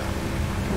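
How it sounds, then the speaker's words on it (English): Steady rain and low thunder rumble fill the scene during a rainstorm in GTA Online on the Cayo Perico heist, loud and continuous without talk. "Oh, now it's raining."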